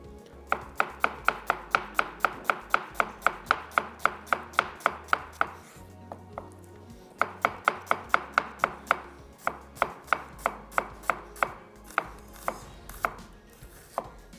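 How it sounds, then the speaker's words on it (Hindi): A knife slices an onion on a cutting board with rapid, evenly spaced chops in two long runs and a short pause between them, crisp and close, with no talking. "प्याज के स्लाइस कर लेते हैं।"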